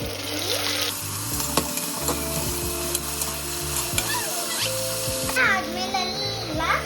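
Tomatoes go into a hot pan for South Indian vegetable pulao and get stirred, with sizzling and frying under repeated scraping and clattering of a utensil, as a person talks nearby.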